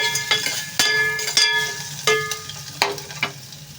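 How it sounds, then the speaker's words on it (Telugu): Onion frying gently in a pan on low heat, heard under a series of sharp metallic clinks and scrapes from a utensil stirring against the pan. "లోపు ఉల్లిపాయ అయితే ఫ్రై అవుతుంది సిమ్లో పెట్టాను"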